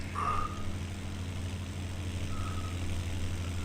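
Tractor engine running steadily during bunker work, a low continuous drone with faint humming tones, heard from a distance at moderate level with no speech.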